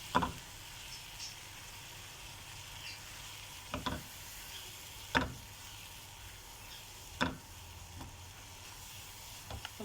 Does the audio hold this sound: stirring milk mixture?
yes